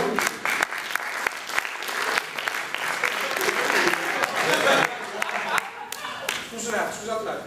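Audience applause at a live comedy show, loud continuous clapping from a crowd with scattered voices and shouts mixed in throughout.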